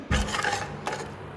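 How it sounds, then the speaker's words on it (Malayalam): A spoon mashes and stirs cooked tomatoes and garlic in a cooker for quick sambar, making close scraping and rubbing strokes with a second scrape shortly after, and no talk. "അപ്പോൾ ഇനി നമ്മൾ സ്പൂൺ വെച്ചൊന്ന് ഉടച്ചു കൊടുക്കാം."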